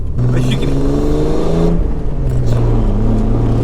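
A Jeep TJ engine fitted with a THOR cold air intake drones steadily on a drive, its low revving rumble and whir filling the whole stretch, loud and continuous with a voice talking over it.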